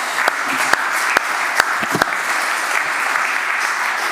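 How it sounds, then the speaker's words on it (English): A room full of conference attendees applauds following a keynote speech, a dense, even wash of clapping with a few sharper individual claps standing out near the start. "Big applause"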